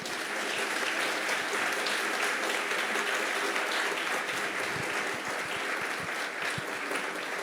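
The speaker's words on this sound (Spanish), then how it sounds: "Dale un fuerte aplauso al Señor." A church congregation claps in strong, continuous applause during a sermon service, a thick even roar of hands with a few louder claps toward the end and no speech.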